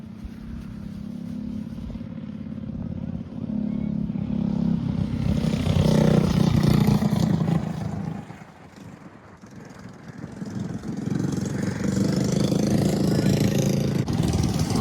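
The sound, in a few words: kid karts racing on a go-kart track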